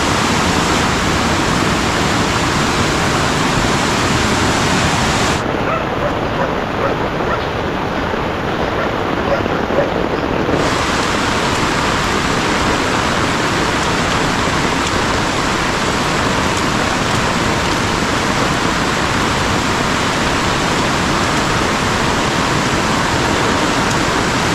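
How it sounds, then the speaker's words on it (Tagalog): A strong mountain stream swollen by heavy rain rushes past in a loud, continuous roar of churning water that stays steady and dense throughout. "Hindi na matawid dito. Napakalakas ng tubig."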